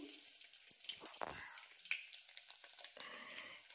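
Faint sizzling of cumin, curry leaves and garlic tempering in a pan, a soft continuous crackle with a few stirring scrapes.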